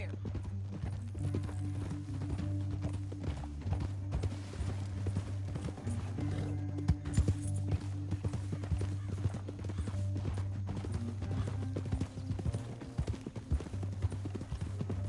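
Horse hooves clip-clopping at a steady pace in the video game Red Dead Redemption 2, over a continuous low hum and background game sounds, with no voices in the clip.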